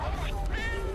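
A cat meows in the video game Tokyo Dark, a short mewing call with rising and falling pitch, heard close over a steady low background hum.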